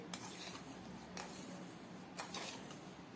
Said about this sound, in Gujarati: ખાંડને આપણે દૂધની સાથે સારી રીતે મિક્સ કરી દઈએ.